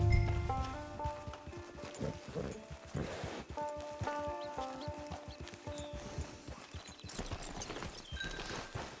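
A horse walks at a steady clip-clop in the open world of Red Dead Redemption 2, hooves thudding near and fairly soft over a bed of background music and faint rustling.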